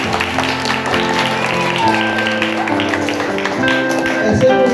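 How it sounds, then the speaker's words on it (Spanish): A gathered audience at an Adventist children's club event applauds steadily throughout, a thick, even wash of clapping with tonal music and voices mixed in underneath. "¡Fuerte aplausos!"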